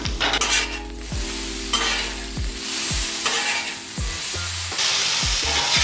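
Potatoes frying on a 36-inch Blackstone griddle, a constant close sizzle with repeated scraping strokes of a spatula across the flat top, no talking.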